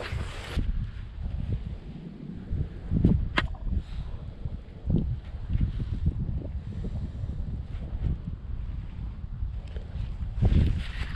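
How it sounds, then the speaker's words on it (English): Strong gusting wind buffets the microphone beside a golf course pond on a cold fall day, a steady low roar of turbulent noise with louder bursts and no speech. "This wind's easily pushing 15, maybe higher. I mean, this wind's kicking."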